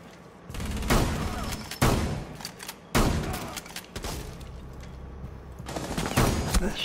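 Rapid bursts of video game gunfire crack out in several loud volleys with short gaps, with dense fire continuing near the end; no talking is heard.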